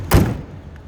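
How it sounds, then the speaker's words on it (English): A single solid thunk of a 1941 Cadillac Series 61 car door shutting, close and brief, followed by a quiet low hum. "Door closes very nicely."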